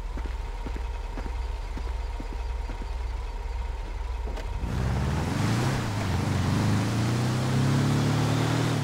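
A car in Grand Theft Auto 5 starts off from idle, the engine note rising and revving as it pulls away, steady and close with no talking.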